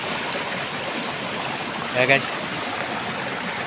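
A small stream winds through Papuan jungle, its water flowing in a steady, close rush. Near the middle a voice cuts in briefly.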